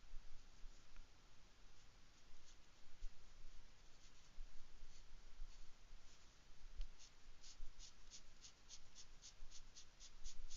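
Felt-tip marker with a bullet nib scratching softly across paper while colouring small detailed areas, a continuous faint rubbing texture with light repeated strokes, close up and quiet, with no talking.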